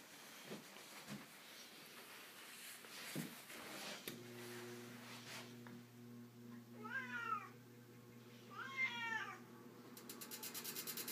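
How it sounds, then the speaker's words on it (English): A cat meows twice, close and clear, over the low electrical hum of an Emerson electric fan, with faint knocks and handling sounds beforehand. "Let me get my cat off the table here"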